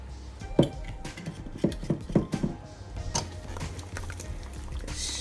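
Potato wedges tossed with rapeseed oil in a bowl give a burst of close rattling, tumbling knocks in the first half, then a quieter stretch with faint handling noise.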